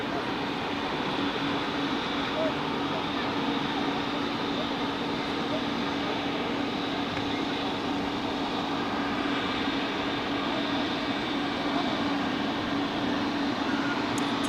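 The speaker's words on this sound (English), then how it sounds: "we have a Swiss A220 arriving. From London Heathrow" Swiss Airbus A220 arriving at Zurich Airport from London Heathrow, a steady broadband jet roar that holds loud and even throughout.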